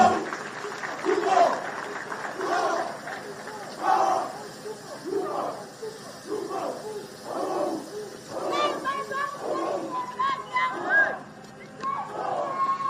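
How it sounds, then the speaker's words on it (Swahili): Crowd clapping and cheering at a National Youth Service pass-out parade in Gilgil, heard as irregular bursts of applause with scattered shouts rising and falling across the stretch, fairly distant and mixed with ambient outdoor noise. "tuongeze makofi tafadhali."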